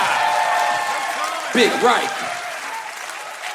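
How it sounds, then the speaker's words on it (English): A live comedy-podcast audience applauds and cheers steadily, a dense wash of clapping that swells briefly as voices talk and react over it. "Let's give a real big round of applause for the Riker that joined the McKee"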